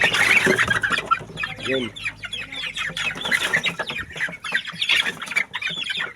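A group of young chickens fed on pure feeds squawk and cluck agitatedly nearby, with overlapping calls throughout, while someone talks briefly over them.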